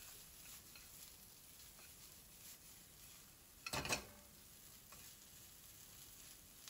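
Japanese-style yakisoba noodles with egg being stir-fried in a pan, a faint steady sizzle throughout with one short, louder burst of tossing and scraping midway.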